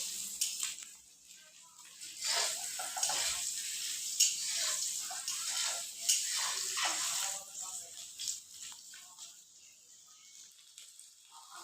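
Eggs fry in a pan until reddish-brown, giving a bright, steady sizzling hiss close by that swells and fades in waves over several seconds.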